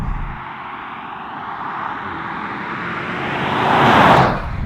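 An Audi RS 6 wagon rushes along at speed, a steady broadband roar of engine, tyres and wind that swells louder toward the end as it builds, with no voices over it.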